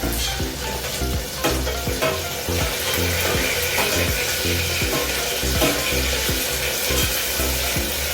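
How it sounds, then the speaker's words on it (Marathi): Onion and tomatoes frying with curry leaves for masala rice, a loud, dense, continuous sizzle with occasional stirring scrapes, close and steady throughout. "तर आपला कांदा छान फ्राय झालाय आता मी त्याच्यामध्ये टोमॅटो टाकले"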